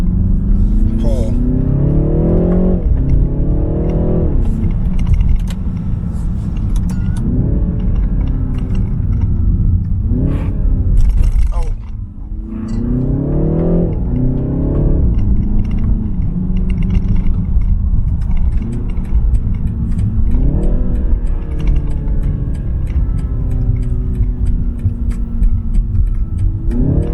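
BMW G20 330i xDrive sedan, 2020, accelerating in sport mode: the engine note climbs through several rising pulls with brief dips between shifts, loud and close, under steady talking throughout.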